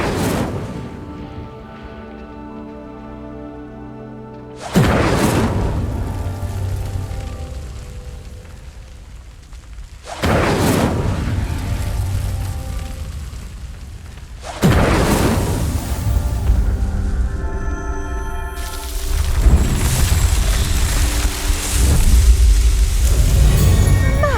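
A fire spell igniting pyres in the video game Hogwarts Legacy: four loud whooshing bursts of flame, roughly every five seconds, each followed by a sustained roar and crackle of burning.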